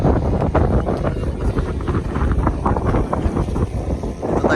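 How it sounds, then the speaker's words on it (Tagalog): Loud, gusty wind roars and buffets the microphone continuously at an RC plane fun fly, a dense rumbling rush with no voices. "Lakas ng hangin."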